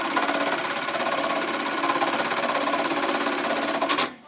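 A THOR electronic tacker stitches a label onto webbing, a loud rapid rhythmic needle hammering held steady up close for about four seconds before stopping abruptly.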